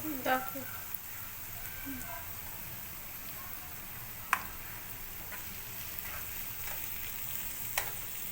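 Octopus mince sautéing in a pan with salt for a Koli-style khimma, a soft, steady sizzle with occasional sharp clicks and spatters from stirring, fairly quiet and close throughout.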